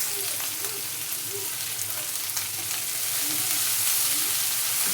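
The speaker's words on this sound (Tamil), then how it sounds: "பச்சை மிளகாய், வெங்காயம் போட்டுக்கலாம்" Green chillies, dried red chillies and onions frying in hot oil with popped mustard seeds for a cabbage and moong dal kootu: a loud, steady sizzle with faint stirring scrapes throughout.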